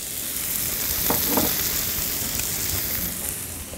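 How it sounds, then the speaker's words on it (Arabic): Onions sizzling in about a quarter cup of olive oil in a pot for carrot and green bean soup, a steady, close hiss with a couple of brief stirring scrapes. "هنزل البصل"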